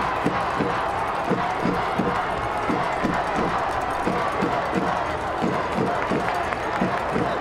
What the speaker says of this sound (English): you could just hear the TIGs and the ERSs in that packed stadium crowd